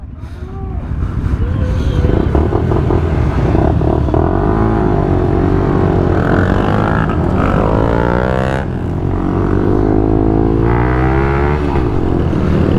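Motorcycles including a Lexmoto LXR 125 ride past on a group ride in Bournemouth, engines droning and rising in pitch as they accelerate, loud and close, with one steady pass blending into the next.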